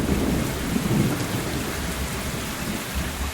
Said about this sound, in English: The rain came, the thunder and the wind.